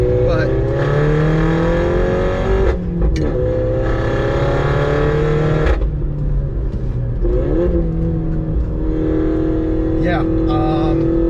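A Stage 2 Mini F56 on a winding canyon road, its engine loud and close, with repeated rising pulls through the gears, brief dips and gaps at the shifts, and a short spoken word partway through.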